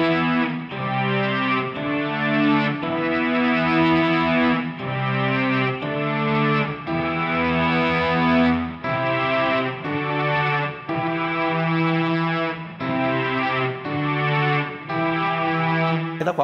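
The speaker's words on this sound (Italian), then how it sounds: "Invece i pad, questi qua, servono per ottenere appunto un certo tipo di tappeto sonoro." Boss SY-1 guitar synth pedal in pad mode, a sustained, layered synth wash with chorus-like shimmer and a slight gritty edge, following slow guitar chord changes, loud and continuous without any voice.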